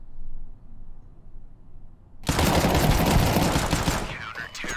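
Counter-Strike 2 gunfire erupts after a quiet stretch, a loud sustained burst of rapid automatic shots with clattering echoes, close and dominant, tailing into scattered reports.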